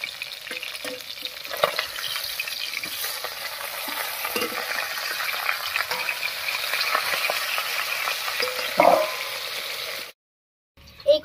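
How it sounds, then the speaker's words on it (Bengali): Pabda fish frying in hot oil in a pan, a continuous close crackling sizzle with occasional louder pops, dropping out abruptly near the end before a brief clatter. "এই কটা মাছ ভাজা হয়ে গেছে"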